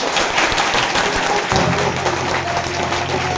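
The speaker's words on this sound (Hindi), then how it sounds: "तो तालियां बजाते तो एक साथ हाथ गरम कर लो" Audience clapping together at a motivational wellness talk, a dense sustained wash of many hands, loud and close, with a low hum entering halfway through.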